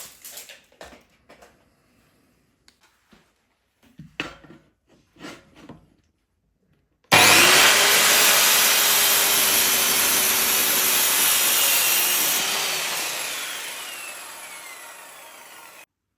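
A power saw rips through a wooden wardrobe panel to trim it to length, a loud steady whine running about nine seconds and fading as the cut ends, after some quiet handling knocks.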